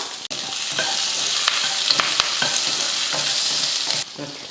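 Cubed onion, curry leaves and green chilies sautéing in hot oil in a pan, a steady close sizzle with scraping stirs of a spoon, and no voices.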